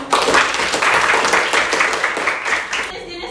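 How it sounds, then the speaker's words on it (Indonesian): A classroom of students claps for a classmate, a dense burst of applause lasting a few seconds before cutting off. "Tepuk tangan dulu Bang."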